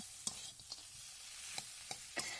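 Banana stem stir-fried with fried peanuts in a vegetarian dish, a quiet steady sizzle punctuated by several sharp scrapes and taps of a spatula stirring the pan, close, without speech.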